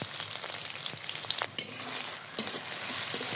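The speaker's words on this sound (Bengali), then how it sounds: "সুন্দর করে নেড়ে চেড়ে নিচ্ছি।" Peanuts, onion and green chillies frying in oil while being stirred, a loud continuous sizzle broken by scraping spatula strokes against the pan, with no voices over it.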